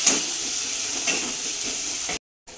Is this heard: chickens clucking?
no